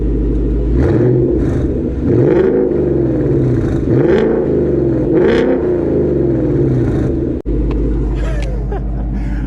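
A 2020 Ford Mustang GT V8 with a Borla exhaust idles with a deep burbling note, then revs up several times in quick surges before settling back to a rumbling idle.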